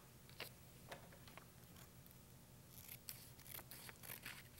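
Scissors snipping through paper to cut tangram pieces, with a series of crisp, close snips spaced irregularly and a quicker cluster of cuts near the end.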